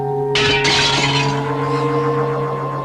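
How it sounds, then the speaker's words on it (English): A lamp shatters in a village setting: a sudden loud crash of breaking glass at about a third of a second, bright fragments scattering and ringing out over a steady tonal hum that continues underneath as the debris settles. "Lamp, I order you to shatter!"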